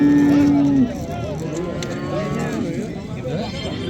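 Swedish-breed cattle at a cow market give a low drawn-out moo at the start, followed by a busy livestock-market din with people talking over it.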